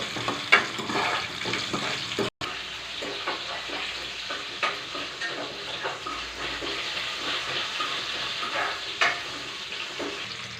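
Ingredients frying in a pan for a homemade theeyal curry, a steady sizzle with repeated stirring clinks and scrapes over several seconds.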